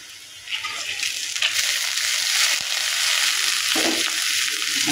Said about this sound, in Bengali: এবার পেঁয়াজ আর রসুন দিয়ে দিলাম, ভালোভাবে ভেজে নেব।